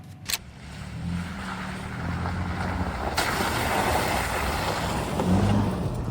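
A Toyota Tundra TRD Pro pickup truck driving off-road, heard from inside the cab as a steady low rumble of engine and tires with a broadband rush, plus a few sharp knocks from the rough terrain.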